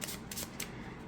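Tarot de Maria Celia cards being side shuffled up close, a quick run of papery riffling bursts and flicks in a quiet room.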